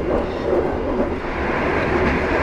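Inside a Sancaka passenger train on the Pantura line, a steady low rumble of wheels on rails fills the carriage. The faint rhythmic clatter stays even and continuous throughout.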